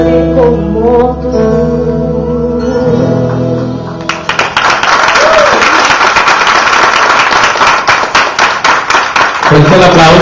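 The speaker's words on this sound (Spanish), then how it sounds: "aplauso que se escuche para ella" Audience applause breaks out loudly at a beauty academy graduation ceremony, a dense, sustained burst of clapping that follows softer music and carries on to the end without speech.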